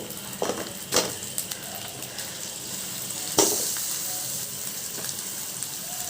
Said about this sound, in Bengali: চুলার আঁচ লো করে চিকেন পিসগুলো এবারে হালকা ভেজে নেওয়ার পালা।